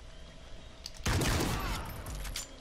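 Rapid, loud gunfire bursts out after a quiet second in a video game gun game match, a dense volley of shots decaying into scattered reports.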